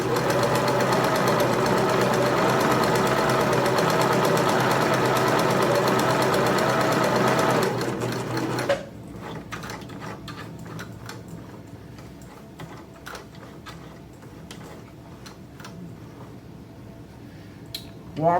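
A sewing machine runs over a stitch line on kitchen linens trimmed with splash yarn fringe. It hums continuously and close for about eight seconds, then stops, leaving quiet fabric handling and faint ticks.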